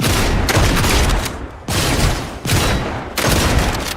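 Rapid bursts of automatic gunfire in a shooter video game come as three or four loud, dense volleys separated by short gaps.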